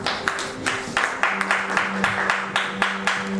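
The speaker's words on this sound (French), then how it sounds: "We applause for the Lord." A church congregation applauds as a run of sharp, fairly even claps, about three per second and moderately close, continuing steadily over a low sustained tone.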